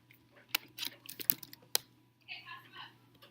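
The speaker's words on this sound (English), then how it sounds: "I finished typing in that 100" Keys on a computer keyboard clatter close up in a quick irregular burst of sharp clicks, then softer lighter tapping follows in a quiet room.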